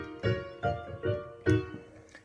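A Debussy piece is played as a chain of parallel triads, most likely on piano. About five soft chord strikes sound in an uneven rhythm, each decaying quickly, quiet and with no voices.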